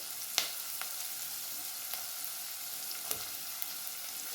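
Chopped vegetables sautéing in a pan for a white pumpkin curry, a steady soft sizzle with a few sharp pops and stirring clicks, close and quiet, no talking.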